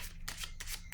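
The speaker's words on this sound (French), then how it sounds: "Je vais déposer une autre carte ici." Tarot cards sliding and being laid down on a table during a reading, a few quick papery swishes and soft slaps in close, quiet succession with no talking.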